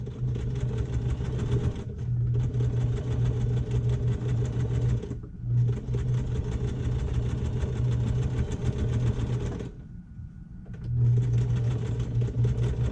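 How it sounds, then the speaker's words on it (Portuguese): Electric sewing machine stitching through fabric with the presser foot guiding the seam, a steady loud mechanical whir that runs continuously, stops briefly twice, then resumes. "Desço a agulha dentro do tecido e vou costurando, mantendo o calcador aqui na linha."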